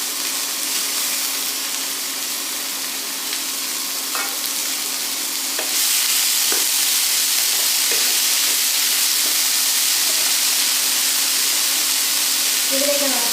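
Chopped banana stem frying in a pan with dried red chillies, a continuous close sizzle that jumps louder about midway as the pieces hit the hot oil, broken by occasional stirring clicks and scrapes.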